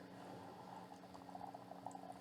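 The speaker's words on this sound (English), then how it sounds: "That dry ice is now boiling because the water is so hot" Dry ice sublimates in very hot water, giving a faint, steady bubbling fizz with small popping bursts, close up and quiet throughout.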